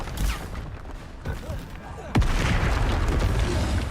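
Explosive Bombarda spells burst during a Hogwarts Legacy battle, with scattered booms and pops followed by a sharp loud blast, amid rapid casting effects and a speaking voice.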